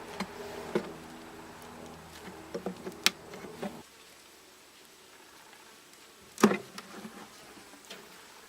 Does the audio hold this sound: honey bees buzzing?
yes